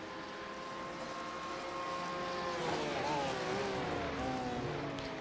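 Engine note of a Porsche GT3 race car in a sim racing game, revving and dropping through the gears on an uphill left-hander, the pitch stepping down repeatedly under steady engine drone.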